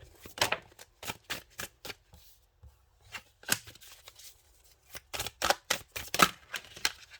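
A deck of tarot cards is shuffled in repeated quick riffling bursts, close and crisp, with brief pauses between runs and no talking.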